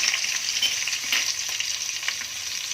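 Curry leaves crackling in hot oil for a Konkani fish curry, a dense, steady hiss with small pops throughout, close and fairly loud, no voices.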